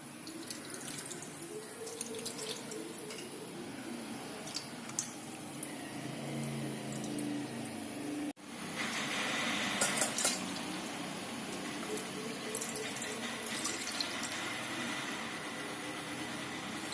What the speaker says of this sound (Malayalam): ഇനി ഇത് അരിച്ച് ഒരു പാത്രത്തിലേക്ക് ഉണങ്ങിയ കുപ്പിയിലേക്കൊക്കെ ഒഴിച്ചു വെക്കാം.